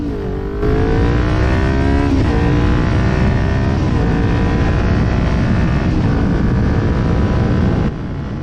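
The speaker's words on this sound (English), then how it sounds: "As I start to accelerate here, listen to that Leo Vince exhaust purr" A Kawasaki Ninja 400 motorcycle with a throaty aftermarket LeoVince exhaust accelerates through the gears, its engine note rising, dropping at each shift, then climbing again, with wind rushing past.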